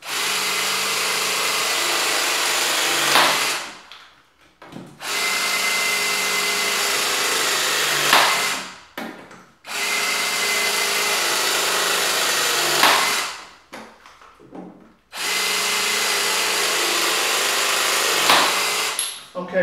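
A powered crimp tool presses multilayer pipe fittings, four long steady whirring presses of about four seconds each, separated by brief pauses and clicks, close and loud.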